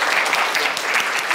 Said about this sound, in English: Round of applause for our volunteers.